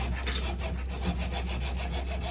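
A hand saw cuts through aluminum tubing for slot car track light poles in steady, rapid back-and-forth strokes, close and continuous over a constant low hum.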